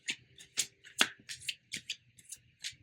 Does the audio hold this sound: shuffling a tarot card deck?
yes